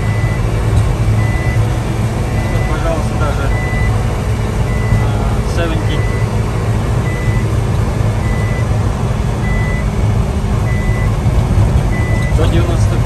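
A 1989 Suzuki Carry 4x4 mini truck with a supercharged 550cc engine sounds its speed alarm, a faint repeating beep that recurs steadily over loud constant engine and road noise while driving.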